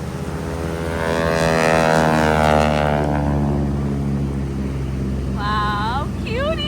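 A propeller airplane drones loudly overhead at a seaside air show in Atlantic City, a steady engine hum that swells and holds, with people talking over it and a brief high whistle near the end.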